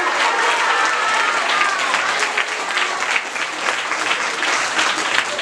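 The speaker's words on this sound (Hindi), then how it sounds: "हाथ बजा के ताली बजा के हालेलुया बोलिए" A congregation at a special prayer gathering in Sodepur claps hands together, a loud, continuous rush of many close clappers with crowd voices faintly mixed in.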